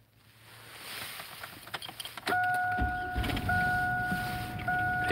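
Car engine starting after rustling and clicks, followed by a steady idle with a sustained electronic chime tone running alongside it.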